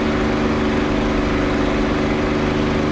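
Dense, droning piston-engine roar of a P-51D Mustang held at cruise power in the DCS flight sim, loud and unbroken with a steady propeller throb.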